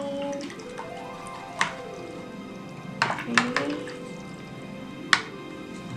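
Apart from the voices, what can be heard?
rinsing a paintbrush in water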